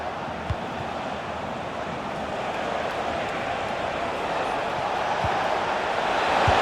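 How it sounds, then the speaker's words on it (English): Steady roar of a football stadium crowd during a Bundesliga match between Hamburger SV and Hoffenheim, a dense, continuous wash of massed voices that swells slightly toward the end, with no clear individual talk. "Well, just listen to this crowd"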